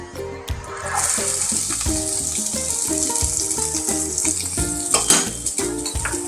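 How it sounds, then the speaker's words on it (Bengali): Finely chopped onions sizzle in hot mustard oil in a pan, a steady close crackling hiss with occasional stirring and scraping throughout. "প্রথমে আমি পেঁয়াজটা একটু ভেজে নেব, ভালো করে একটু ভেজে নেব পেঁয়াজটা লাল লাল করে।"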